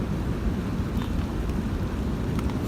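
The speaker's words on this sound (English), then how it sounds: "It's very windy." Steady low rumbling wind buffeting the microphone during a carp fishing session, constant and fairly loud, with faint distant sounds briefly poking through.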